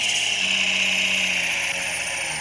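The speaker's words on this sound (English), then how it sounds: "let me turn off the drill and raise this thing up again" A farm drill machine in the Roblox video game runs with a steady mechanical whir and drone, loud and even, with a faint rattling texture and no talking.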